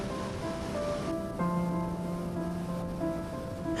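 Steady sea surf washing against a coastline where a breakwater is being built, a continuous close roar of waves with faint tonal hum layered over it and no speech.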